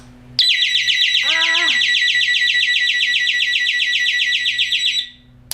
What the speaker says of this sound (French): Vous avez juste à tirer là-dessus et ça déclenche l'alarme